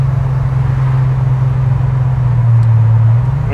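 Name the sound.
Ferrari F355 GTS engine and exhaust noise at low revs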